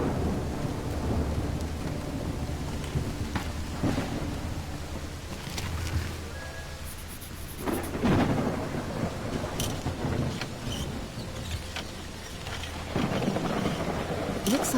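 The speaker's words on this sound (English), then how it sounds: "It's raining cats and dogs here." Heavy rain pours steadily in the video game Call of the Elder Gods, with rolling thunder rumbling underneath and a few louder cracks and bursts over a constant wash.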